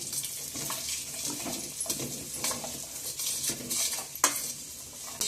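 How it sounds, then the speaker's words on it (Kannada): Dates and dry fruits fry in ghee in a pan while a spoon stirs them, giving quiet scraping clinks of metal on the pan over a soft, steady sizzle, with no one speaking. "ಇದನ್ನ ಡೇಟ್ಸು ಮತ್ತು ಇದರಲ್ಲಿ ಹಾಕ್ಕೊಂಡು ಒಂಚೂರು ಫ್ರೈ ಮಾಡ್ಕೊತೀನಿ"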